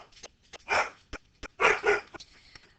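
Several pet dogs bark in short, excited bursts indoors, reacting jealously to another dog passing on the street; a few sharp yips and whimpers between louder barks, close and alone with no talk.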